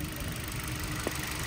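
Steady idle of a 2021 Kia Rio with a 1.6 engine and automatic gearbox, a low, even hum holding constant throughout with one brief tick near the end.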